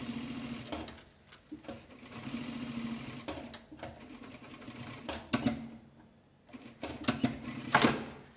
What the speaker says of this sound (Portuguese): Vou costurar só essa aqui.